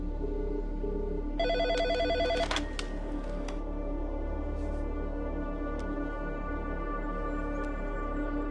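A telephone rings in a film scene, its electronic tone repeating in bursts over a low steady hum, with a few sharp clicks and knocks after the ringing stops.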